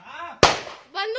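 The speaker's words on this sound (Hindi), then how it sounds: "शख्स ने एक के बाद एक ताबड़तोड़ 4 राउंड फायरिंग की और फिर मौके से भाग निकला।" A single sharp, loud gunshot cracks out in a street, its burst briefly ringing before voices resume around it.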